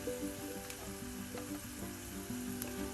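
Chicken liver frying in a pan with pepper powder and chicken masala while being stirred, giving a steady, close sizzle with a soft tonal melody running underneath.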